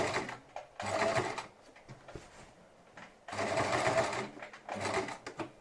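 A sewing machine stitches bias binding onto fabric with rounded edges, running in three close bursts of rapid whirring clatter separated by short pauses, loud and near, with no one talking.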